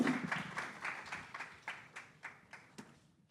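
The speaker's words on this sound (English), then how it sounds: "Another round of applause for Dr. Dresner." Audience applause at a residency program coordinators' education retreat, following a presentation: a faint, thinning patter of claps tapering into a few distinct separate claps at the end, with no talk.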